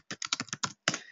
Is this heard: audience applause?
no